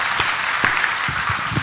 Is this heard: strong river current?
no